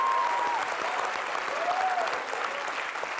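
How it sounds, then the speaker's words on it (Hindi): A studio audience at a Hindi TV comedy show applauds steadily, a dense wash of clapping held at an even level throughout, with a faint tonal squeal drifting over it. "तो तालियां"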